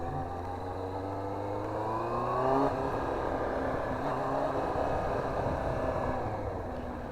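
Yamaha R1 sport motorcycle engine running steadily nearby, a continuous droning hum with a slight rise in revs partway through, no talking.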